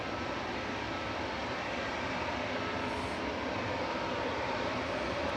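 A five-year-old Airbus A320 shuttle, just arrived from Heathrow at Manchester Airport, gives a faint, even roar that stays unchanged throughout with no talk.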